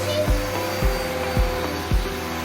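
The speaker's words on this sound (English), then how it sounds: "Vacuum back there too." A vacuum cleaner runs steadily close by in a living room, its motor whine dipping in four regular pulses as it is pushed back and forth.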